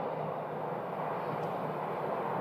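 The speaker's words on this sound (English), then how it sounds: "Airbus, an Airbus A321. Taxiing." An Airbus A321 airliner taxiing at Phoenix Sky Harbor airport, a steady broadband engine roar heard from a distance without variation.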